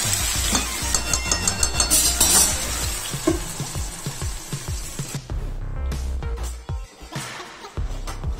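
Vegetables for Bengali shukto fry briefly in a pan, a busy crackling sizzle with stirring clatter throughout, loudest early on and settling into a steadier hiss toward the end.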